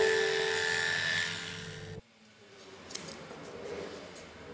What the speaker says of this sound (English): She's too afraid of clipper sound, so I must use scissors instead.